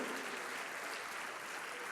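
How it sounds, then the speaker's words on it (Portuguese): A church congregation at a worship service applauds in a soft, even wash of clapping, fairly distant and low in level, with no words spoken. "pode aplaudir"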